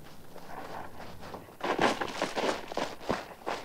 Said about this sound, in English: She jumps down the slope, slipping and sliding